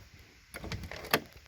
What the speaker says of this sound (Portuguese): Fechamento da porta.